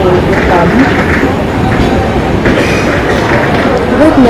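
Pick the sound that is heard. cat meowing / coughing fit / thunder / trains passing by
trains passing by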